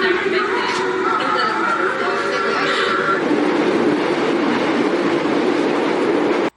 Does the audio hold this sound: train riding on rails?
yes